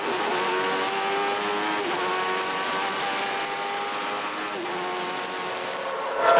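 Formula 1 race cars at the 1991 Italian Grand Prix at Monza, a steady high-pitched engine whine holding for several seconds with slight pitch shifts, fairly distant and continuous, swelling louder at the very end.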